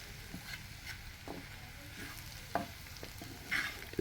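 Bitter gourd and potatoes fry in a pan with a faint, steady sizzle, broken by quiet scrapes and taps of stirring and a few soft knocks.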